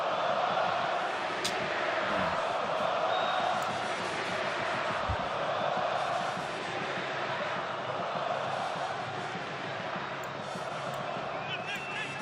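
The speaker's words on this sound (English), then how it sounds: "The Moroccan crowd chanting for Nigeria here in Casablanca" A large Moroccan stadium crowd in Casablanca at a Nigeria football match keeps up a steady, distant roar with a faint rising chant, broad and sustained throughout with talk mixed in.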